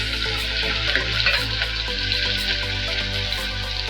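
Chopped onion pieces sizzle in hot oil with cumin in a pot for moong dal khichdi, a dense, steady frying hiss with occasional stirring clinks, close and continuous.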